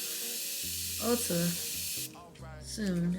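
Morphe setting spray hisses from its bottle in one steady, close burst lasting about two seconds, with a voice talking over the end of it and continuing after.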